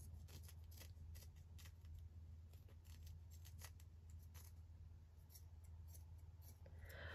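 Scissors cutting cheesecloth fabric, a series of quiet snipping clicks in irregular rhythm over a low steady hum, close but faint, no talking.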